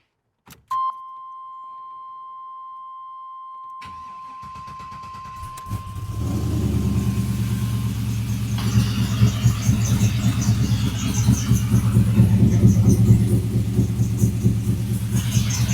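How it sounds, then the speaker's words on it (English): An LS-swapped 6.0 V8 with cold headers and no fuel pressure cranks after a click and a long tone, catches slowly, then settles into a loud, lumpy, uneven idle close by. "Cold start, baby. Kind of started kind of slow."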